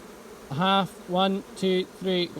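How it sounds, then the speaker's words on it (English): Honey bees buzzing at an open beehive during a brood inspection: four loud, close buzzing bursts as bees fly past, with a faint hum between them. "A lot of bees here."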